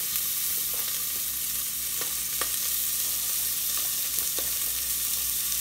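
Tomatoes sizzle steadily in a hot pot for Haitian-style bread soup, a constant dense frying hiss with occasional small pops and stirring clicks, close and fairly loud, no voices.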